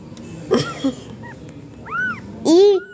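A stray pregnant cat gives a few distinct meows near a house, loud and close, several separate calls with the last one the strongest, over quiet background.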